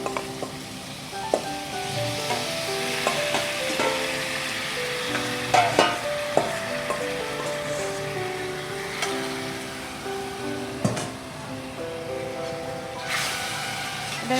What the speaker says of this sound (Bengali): এবার মোচাটা দিয়েও আমাকে সুন্দর করে কষতে হবে